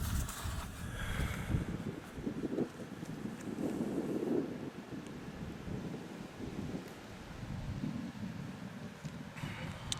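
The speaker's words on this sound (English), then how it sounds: "The wind's getting a bit choppy, too." Gusty wind rushes across an outdoor graveyard at night, a steady low roar with buffeting against the microphone that swells and eases without pause.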